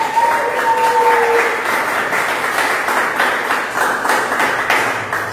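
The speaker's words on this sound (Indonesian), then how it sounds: "Tepuk tangan sekali lagi bagi Allah." A congregation at an online church service applauds continuously, a thick wash of many hands clapping at steady volume, with a faint tonal ping near the start.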